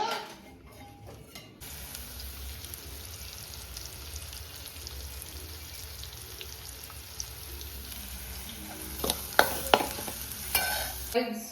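Marinated fish cooks in a pan with a soft, continuous sizzle and frying hiss, joined near the end by a few louder scraping and stirring clinks against the pan.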